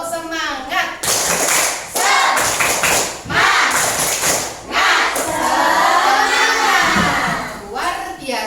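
A class of children at school performs a rhythmic clapping chant, with bursts of sharp group claps and thumps alternating with their voices chanting together, loud and close, in repeated short patterned phrases.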